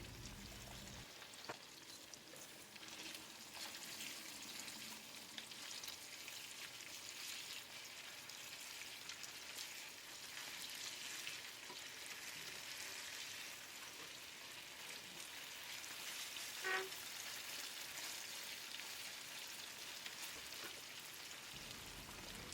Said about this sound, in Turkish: biraz tuz serperek arkalı önlü nar gibi kızarana kadar kızartalım.